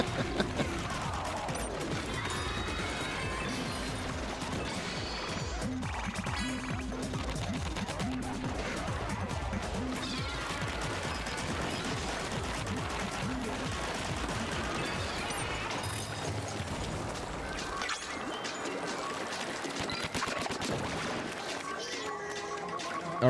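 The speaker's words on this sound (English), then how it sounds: "Man, look at all of these turrets going." Dense, continuous barrage of rapid turret gunfire from the Splatoon video game, loud and relentless, layered with game music and effects, with a voice talking over the shooting throughout.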